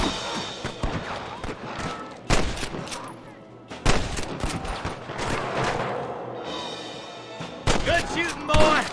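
Gunfire at rustlers in Red Dead Redemption: loud, close volleys of rifle and pistol shots crack in bursts and scattered single reports, with shouting voices between and over the shots.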